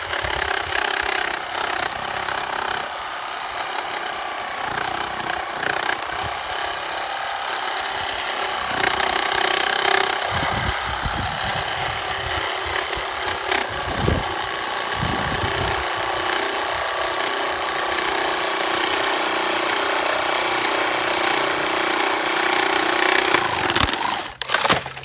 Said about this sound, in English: I got the 9-inch Diablo pruning blade in here